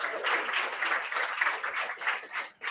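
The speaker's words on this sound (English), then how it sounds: "Round of applause for the families that are" A room of people at a London bootcamp graduation claps for the families attending, a brief, steady burst of crowd applause that dips near the end.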